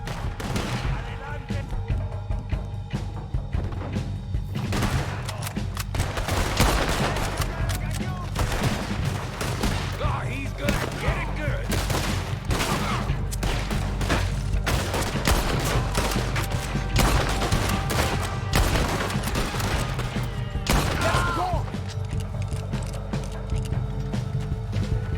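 Repeated gunshots and volleys of gunfire in Red Dead Redemption 2 crackle steadily through a shootout, with bursts clustering at moments. Game music and shouted voices sit underneath.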